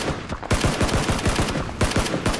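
Gunshots in PUBG crack out in a rapid run of loud, sharp reports, close and evenly spaced, continuing almost without pause through a short stretch with no talk over them.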